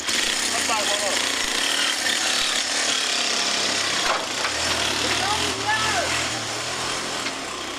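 A hand saw cuts through mulberry tree wood outdoors, a steady continuous rasping that fills the whole stretch, with brief voices and birdlike chirps faintly underneath.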